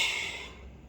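A single long breathy exhale, like a voice imitating a bear snoring, fades out over about a second.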